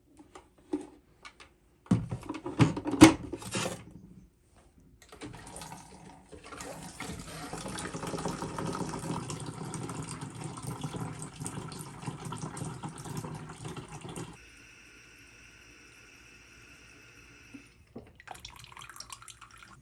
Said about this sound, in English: We're going to fill the water storage tank to the max level.